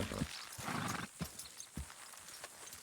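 Horse hooves clip-clopping in Red Dead Redemption II, several distinct sharp hoof strikes in an uneven rhythm over a soft noisy bed, with a brief whinny-like sound near the start.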